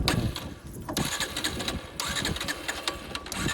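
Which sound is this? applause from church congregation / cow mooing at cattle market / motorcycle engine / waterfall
motorcycle engine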